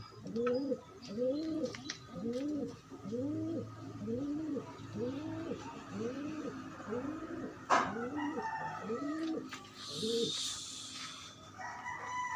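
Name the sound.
pigeons cooing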